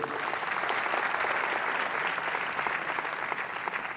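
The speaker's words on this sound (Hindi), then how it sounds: "उनको ताली बजा के अभिनंदन दे दो।" Audience at a spiritual discourse in India breaking into steady, dense applause, many hands clapping together at a fairly loud, even level that fades slightly toward the end.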